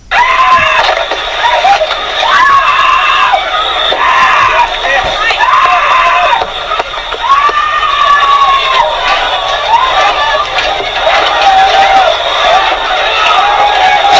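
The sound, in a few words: people screaming in a fire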